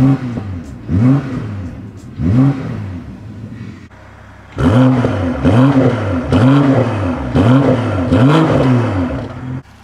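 A 2022 BMW engine revs repeatedly, several rising and falling throttle blips near and loud, a short pause, then a denser run of rapid revs.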